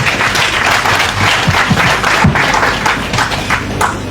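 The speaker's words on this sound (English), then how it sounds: "Shall we clap for Lovett again" An audience applauds at a ship commissioning ceremony held at a pier, with steady, dense clapping close and loud throughout and no talking.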